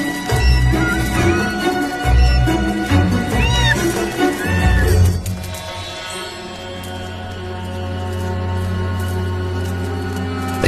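A Pallas cat kitten on rocky ground gives a series of short, rising meows and calls during the first five seconds, close and fairly loud, before the sound gives way to a steady low hum.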